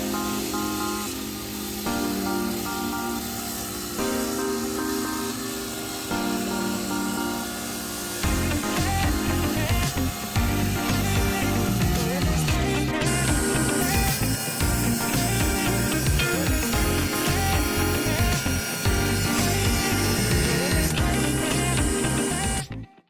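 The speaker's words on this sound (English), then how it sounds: "Next up would be the cabinet saw." A cabinet saw cutting wooden boards for an end grain cutting board, a loud sustained motor whine with the blade's pitch shifting as wood feeds through, continuous and close.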